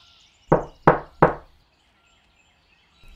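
Three quick, evenly spaced knocks on a door, close and crisp, followed by quiet.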